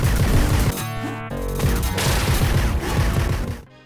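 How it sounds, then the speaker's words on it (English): Shotgun-like gunfire from Judge Dredd on the Sega Genesis, loud booming blasts repeating in quick volleys over a low, droning game soundtrack. "Your gun on Sega has the same sound effect as someone firing a shotgun."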